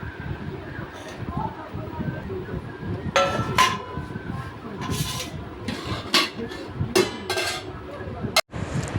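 Plates and dishes clink and knock in a home kitchen as rice is served onto them. Someone talks throughout, with sharp, irregular clatters rising over her voice.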